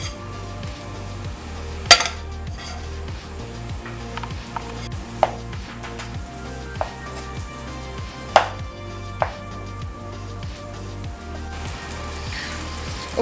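Sausage sizzles steadily in a frying pan for an omelette, with sharp knocks and utensil clicks scattered over the constant crackle, close and fairly loud, with no talking.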